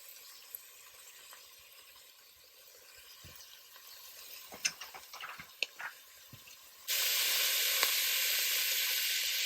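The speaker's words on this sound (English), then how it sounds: "the vegetables are becoming softened as we cook this down" Vegetables for a turmeric lentil soup sizzle softly in a pot, with a few sharp clinks and stirring taps midway, before a loud, steady hiss takes over for the last few seconds.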